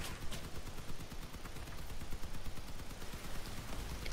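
Gunfire from armored combat vehicles in the game Crossout, dense rapid shots rattling continuously at moderate loudness, without talk.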